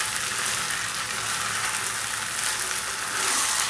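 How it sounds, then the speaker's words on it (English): Sago upma is stirred over a slow flame as it cooks, with a soft, steady frying hiss running throughout and a slight swell near the end. "Keep stirring on a slow flame"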